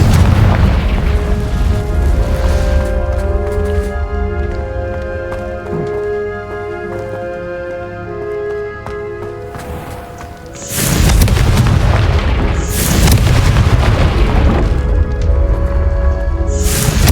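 Booming spell blasts from the Confringo curse in Hogwarts Legacy, a dense layered rumble with game music tones, then a louder burst of repeated explosive impacts in the closing seconds.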